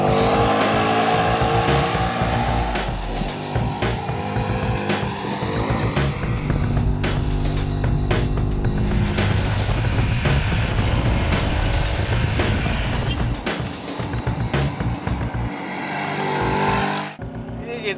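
A Bajaj Qute quadricycle weaves through a slalom course at up to about 50 km/h. Its small engine drones continuously with surging tire and road noise, then the sound drops away abruptly near the end.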